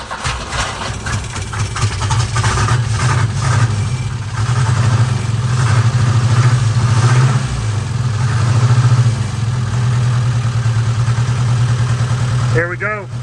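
A Volvo Amazon's engine idles roughly with a miss while running off its own fuel pump and tank in a shop, a loud steady rumble throughout with a brief noise near the end.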